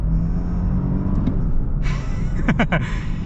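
A 2022 Lexus LX600 F Sport SUV at full throttle gives a steady low engine rumble and a rising whir from inside the cabin, loud and continuous throughout.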